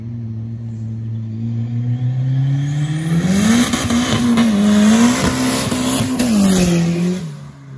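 A 400hp 1999 Honda Civic Si roars past with tires spinning, its engine note climbing as it approaches, holding loud and close through a long screeching wheelspin, then fading away at the end.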